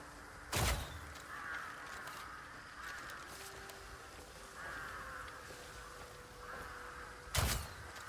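Crows cawing in the video game Crimson Desert: a few scattered harsh caws at mid distance over quiet ambience, punctuated by two sharp thumps like doors or impacts.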